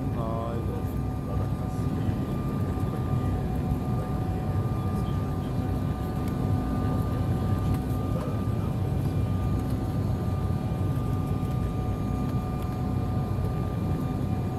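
Steady loud cabin roar of an airplane landing at Porto Alegre, a continuous engine and airflow rumble with a high whine, heard from inside without pause.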